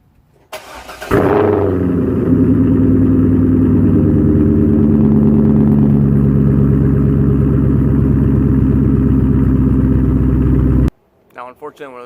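C5 Corvette fitted with Texas Speed headers and B&B Bullets exhaust starts up with a sharp crank and bark, then settles into a loud, throaty, choppy idle held close for about ten seconds before cutting off.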